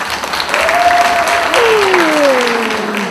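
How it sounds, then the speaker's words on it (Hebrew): Applause from an audience at a staff Passover toast gathering at a community center, steady clapping for about three seconds with a tonal whistle-like sound sliding through it. "מגיע למחיאות כפיים"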